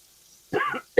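Two short coughs, the first longer and harsh, the second brief and sharp, close by after a moment of near silence.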